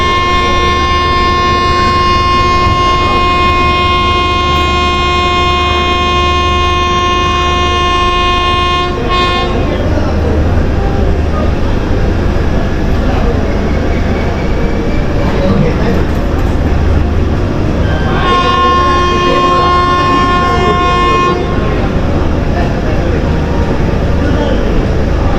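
A passenger train departs Coimbatore in the early morning with a long, loud horn blast, then a second, shorter blast later. A constant heavy rumble of rolling stock runs beneath both.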